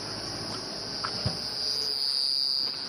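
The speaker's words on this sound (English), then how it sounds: "That was a cricket there." Crickets chirp in a steady high-pitched trill in a savanna setting at dusk, with insects and cicadas around, holding a constant drone throughout and a couple of faint soft knocks in the background.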